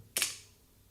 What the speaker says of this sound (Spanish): Ejecución del tiro en movimiento hacia el frente a distancias próximas y a orden de disparo.